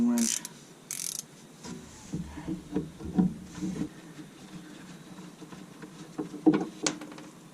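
A ratcheting wrench works on rusty front suspension bolts of a 2001 Chevy S10 pickup, clicking in uneven bursts with metallic clatter and scraping, close and moderately loud.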